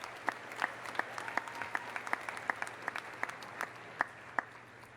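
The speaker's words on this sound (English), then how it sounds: "So let's give our peers and our friends a round of applause." Audience at a spring university commencement ceremony applauding, with sparse, distinct claps scattered across a quiet hall, faint and somewhat distant, with no speech over them.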